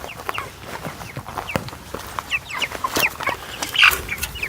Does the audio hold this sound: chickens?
yes